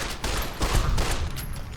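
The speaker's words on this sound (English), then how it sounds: "we're just gonna shoot him in the torso" Fallout: New Vegas gunfire comes as a dense run of rapid, loud shots over a noisy game-mix background, with no voice present.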